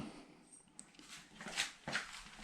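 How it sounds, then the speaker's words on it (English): A dog moves around indoors during door slab installation, giving faint whimpers and yips among soft knocks and shuffling, fairly quiet and distant. "Here's the dog walking around making a bunch of racket."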